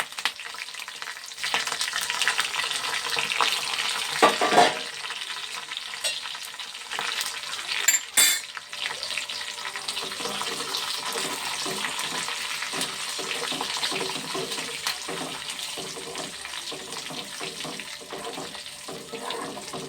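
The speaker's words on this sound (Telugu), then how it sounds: "జీలకర్ర, ఆవాలు, కరివేపాకు, ఎండుమిరగాయలు వేసేస్తున్నాను." Cumin, mustard seeds, curry leaves and dried chillies frying in hot oil give a steady, fairly quiet sizzling hiss with a few sharper crackles and pops, heard close and without talk.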